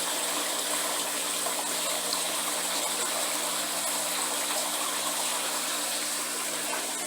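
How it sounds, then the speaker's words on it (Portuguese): Water pours steadily into a flour mixture in a continuous, even gush that lasts several seconds, heard alone and close. "Aí a gente põe mais um pouco de água"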